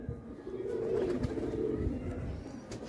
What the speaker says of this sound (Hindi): ये जो आपके हाथ में कबूतर है